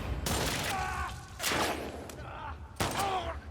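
Gunfire in The Last of Us Part II comes as three loud, sharp bursts spaced about a second apart, each trailing into a ringing tail over a low rumbling game ambience.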